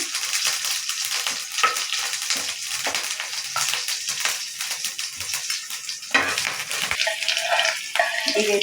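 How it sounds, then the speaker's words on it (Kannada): Mustard seeds splutter and crackle in hot oil for a tempering, with green chillies added, a dense, continuous sizzle with sharp pops, fairly close and loud, with a brief clatter near the end. "ಸಾಸಿವೆ ಹೊಡಿತಿದ್ದಂಗೆ ಈಗ ಒಂದು ಸ್ವಲ್ಪ ಎರಡು ಹಸಿಮೆಣಸಿನ್ಕಾಯಿ ಹಾಕ್ತಿದ್ದೇನೆ"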